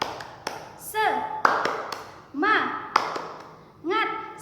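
Schoolchildren in an Indonesian classroom clap the "tepuk semangat" routine, sharp taps and claps in short rhythmic bursts, with kids chanting in sung, pitched phrases between them.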